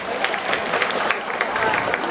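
Warm, continuous applause fills a hall at a former students' reunion, many hands clapping at once with scattered louder claps, steady throughout.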